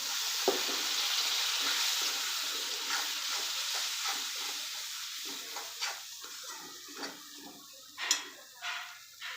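Loud, steady sizzling and hissing as water hits hot spiced oil in a pan, with occasional crackles and spatters.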